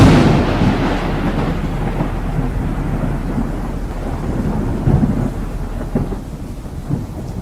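Heavy storm with rolling thunder and steady downpour, a continuous loud roar of rain and wind with deep rumbles swelling throughout, no voices.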